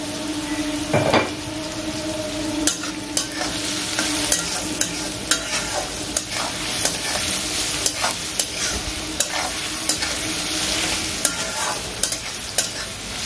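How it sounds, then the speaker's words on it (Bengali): Beans, chopped chilli and soybean fry in a pan with a constant sizzle, as a utensil stirs and scrapes through them in repeated sharp clinks and knocks. "কুচো লঙ্কাটা আর বিনসটাকে অ্যাড করে দিয়েছি। এটাও একটু হালকা ভাজা হবে, একটুখানি নেড়ে তারপর আমি সয়াবিনটা অ্যাড করে দেবো।"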